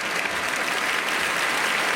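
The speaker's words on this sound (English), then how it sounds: "Clap if you're in love." A comedy festival stand-up audience claps in a dense, steady burst of applause filling the room, loud and continuous with no voices over it.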